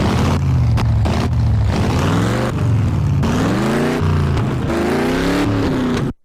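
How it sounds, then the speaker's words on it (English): A nitro-powered RC car engine fires up and screams loudly and continuously at close range, its pitch rising and falling in repeated revs before cutting off abruptly at the end. "the nitro car fires up"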